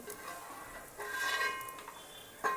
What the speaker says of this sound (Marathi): चला आता मी शेंगदाणे काढून घेते